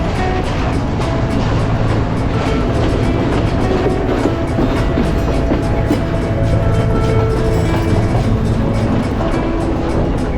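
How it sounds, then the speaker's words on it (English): The CALIPSO train rolls through Sri Lanka's hill country railway near Badulla, a loud continuous rumble with rhythmic wheel clatter heard from on board, no talking. "As the CALIPSO train winds its way through the lush hills"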